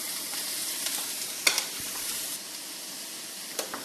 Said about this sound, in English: we'll toss in our shrimp. Put this to high heat